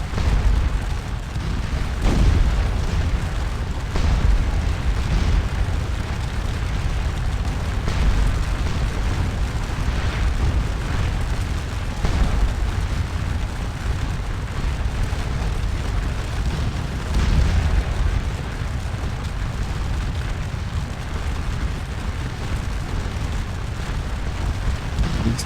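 Volleys of soldiers' musket fire in Scourge of War Waterloo roll as continuous booming, crackling gunfire, steady and loud with no clear pauses.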